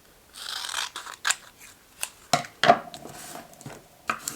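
Scissors snipping paper for a scrapbook mini photo album, a handful of separate crisp cuts spaced irregularly, close and fairly loud, with quiet pauses between.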